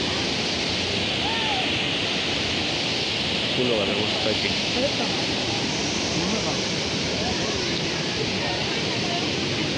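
The full Napne waterfall in Konkan, Maharashtra roars beside a glass bridge, a loud, unbroken wall of rushing water heard close by, with people talking over it.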